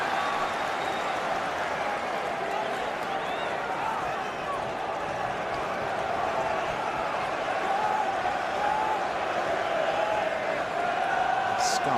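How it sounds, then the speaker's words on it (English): Warm applause from a stadium crowd at a Manchester United v Nottingham Forest football match as a player jogs over to take a corner. Steady, broad crowd noise sits under a commentator's voice throughout. "Scarpa getting warm applause"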